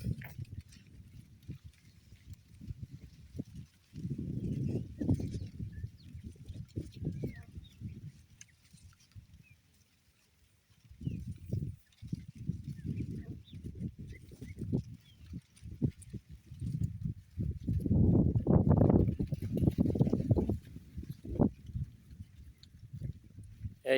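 A horse walks on a farm beside a field of green corn, its hooves clip-clopping in uneven bursts of steps close by, with a quiet pause partway through.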